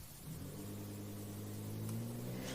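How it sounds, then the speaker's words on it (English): A turbocharged V10 car engine in the Automation car-building game, a steady droning hum that swells slightly as it revs, heard alone and fairly close. "Has a nice sounding V10. You can tell by its how the sound."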